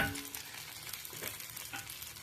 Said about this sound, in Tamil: தக்காளி நல்லா வதங்கிடுது